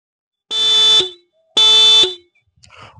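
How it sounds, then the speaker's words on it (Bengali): The horn of a 2025 Honda Shine 125 motorcycle sounds twice, two loud, close, half-second electric beeps with a short gap between them, followed by faint background noise. "তোমাদের হর্নটা একবার শুনিয়ে দিই, তোমাদের হর্নটা কেমন সাউন্ড দিচ্ছে।"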